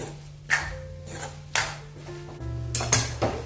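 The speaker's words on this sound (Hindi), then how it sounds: "हमने इसको चम्मच से चलाते हुए 10 मिनट इसको पका लिया है।" A spoon scrapes and clinks against a pan while soyabean mixture is stirred over low heat, making a few distinct metallic knocks over a steady low hum, close and moderately loud.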